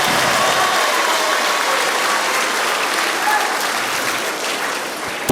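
Applause from an audience at a school event at Shiksha Schools, Pallikonda, a steady dense clapping that holds level for about five seconds with no voices over it.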